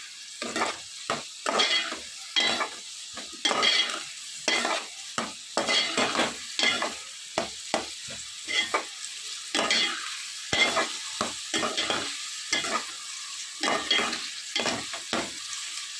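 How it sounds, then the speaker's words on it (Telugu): A spoon stirs turmeric into a prawn curry with onions in a sizzling pan, giving a steady run of rhythmic scraping strokes over a soft frying hiss. "అలాగే హాఫ్ టేబుల్ స్పూన్ పసుపు వేసుకుని బాగా కలుపుకోవాలి ఈ విధంగా బాగా కలుపుకోవాలి"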